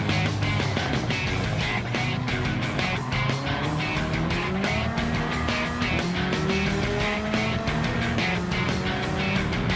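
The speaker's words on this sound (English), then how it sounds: "that turbo is so loud" A loud turbocharged race car engine in a racing video game roars continuously, revs rising and falling through gear changes with turbo whine, close and alone without talk.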